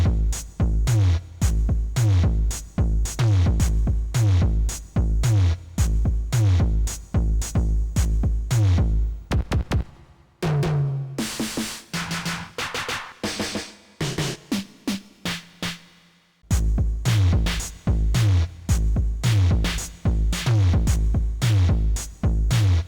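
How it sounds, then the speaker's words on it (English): A drum groove on a Circuit runs through the Analog Drive's heavy big distortion setting, with loud, punchy, gritty beats repeating in a tight rhythm; it breaks into a brief, noisier fill midway before the pattern resumes, with no talking. "So for this drum groove, I like the big dist that I got over here, number 4 here."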